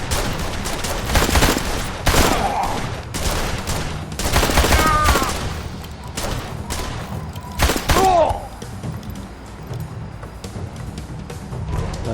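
Repeated gunfire bursts from the video game Blues and Bullets, loud dense volleys and thuds clustering early and around the middle, with a few sharp ricochet-like pings, thinning into a lower rumble toward the end.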